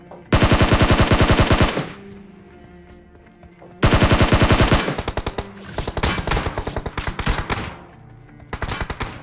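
Automatic rifle fire in a battle royale video game, loud rapid bursts with a long burst, a pause, then more sustained strings of shots and a short final burst, with no talking.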